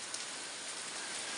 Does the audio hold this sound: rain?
yes